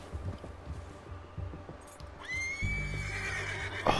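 A horse in the video game Red Dead Redemption 2 gives a loud, rising whinny partway through, following soft hoof clip-clops and low game ambience, heard close and without talk.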